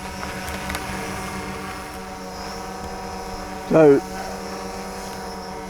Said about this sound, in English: that's my drone, isn't it?